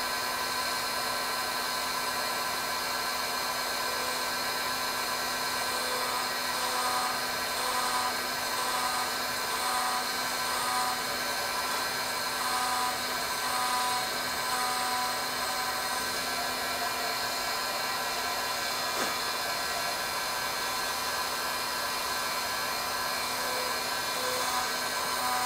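A servo micro drill runs at high RPM, around 12,000 to 15,000, during knife making. It produces a continuous, even, high-pitched whine with a faint buzzing texture that stays steady throughout with no talk.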